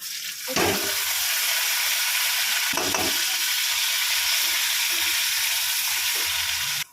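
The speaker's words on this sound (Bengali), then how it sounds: "পেঁয়াজ রসুন লঙ্কা ভাজা হয়ে গেছে" Steady, loud sizzling of garlic, onion and green chili frying in hot oil, with a few scraping stirs near the start and middle.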